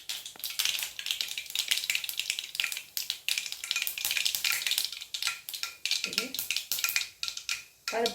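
Mustard seeds, chana dal and urad dal sizzle and crackle in hot oil for a potato masala, a dense, steady frying hiss with scattered pops and occasional stirring clinks throughout.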